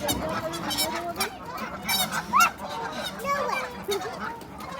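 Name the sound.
ducks calling on a nature walk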